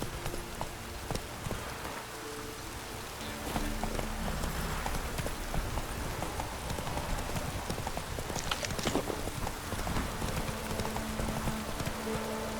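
Roach, the horse in The Witcher 3, gallops with a fast, continuous clip-clop of hooves over a hissing, rain-like wash of ambient noise, loud and steady for the whole stretch.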